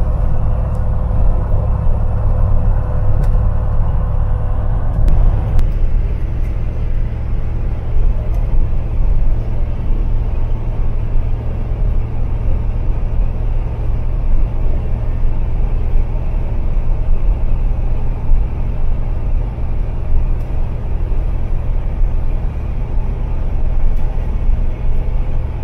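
A Ford Cortina Mk3 classic car drives along the road, with a constant close low engine and tyre rumble holding steady for the whole stretch and a brief change in tone early on.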